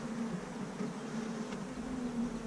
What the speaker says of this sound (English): doesn't have like a crazy amount of bees in it.